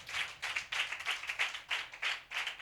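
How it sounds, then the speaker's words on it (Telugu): A church congregation claps loudly in a strong rhythmic beat, repeated bursts of many hands striking together in unison at a brisk, even tempo. "కొట్టు చప్పట్లు గట్టిగా,"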